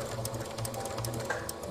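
A sewing machine runs steadily along a drawstring channel close to the edge of a lined fabric pouch, its rapid needle chatter close and even for under two seconds without speech.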